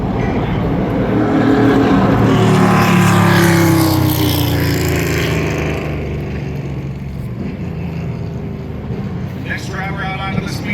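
An ARCA Menards Series race car on a qualifying lap at Berlin Raceway, its engine roar building as it nears and then fading away, with a commentator talking over it throughout.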